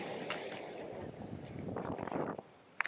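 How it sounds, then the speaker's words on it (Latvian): Strong wind of roughly 15 to 20 km/h on an open mountain path near water, rumbling and buffeting the microphone steadily, close and fairly loud, easing off briefly near the end. "Vējiņš stiprs."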